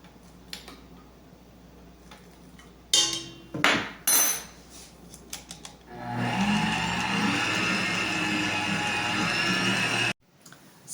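An electric mixer beats oatmeal cookie batter after vanilla goes in: a few clinks and knocks first, then a loud, steady whir that runs for about four seconds and cuts off abruptly.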